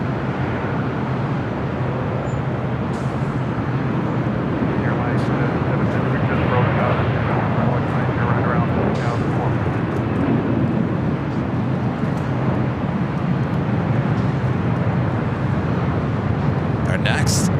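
Heavy airliners, including A380 superjumbos, roar on the north side of LAX, producing a steady, loud jet rumble that fills the whole stretch, with a person talking over it.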